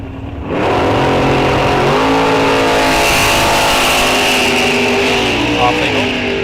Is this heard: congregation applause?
no